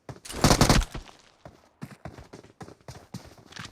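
Horse hooves pounding in the BGMI mobile battle royale game, a loud rapid clatter at the start followed by several quieter, irregular hoof hits, with no talk over it.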